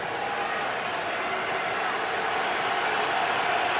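Dense, steady roar of a football stadium crowd at an NFL game in Pittsburgh, Patriots at Steelers in 2004, a constant broad wash of cheering and noise with no breaks.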